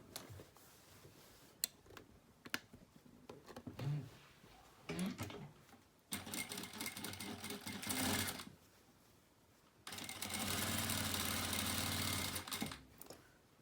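A sewing machine stitching the corner of a fabric placemat, running in two sustained whirring bursts of a few seconds each, preceded by softer handling clicks and taps.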